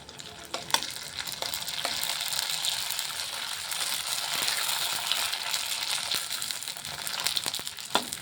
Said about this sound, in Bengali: এই যে এরকমভাবে আমি সবগুলো ফুচকা ভেজে নিচ্ছি।